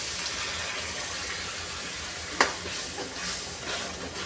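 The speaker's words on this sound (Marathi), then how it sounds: "तर इथे आपण जी पालकची पेस्ट तयार केली होती ती टाकून घेणार आहोत." Spinach paste for palak paneer is stirred into spices frying in oil, giving a steady soft sizzle with one sharp spoon-against-pan clack midway and lighter scraping after.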